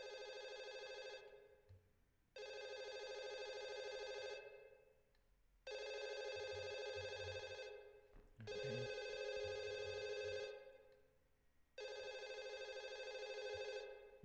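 A telephone rings loud and close in a spooky video game house, five long bursts separated by short pauses, with one brief spoken word between rings.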